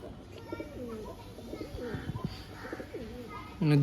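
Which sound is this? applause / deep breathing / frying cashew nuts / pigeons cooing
pigeons cooing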